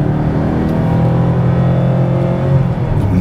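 A 2006 Maserati GranSport engine revs hard in sport mode, climbing through gears with a loud, sustained roar and rising pitch between shifts. It is heard from inside the car and no one talks.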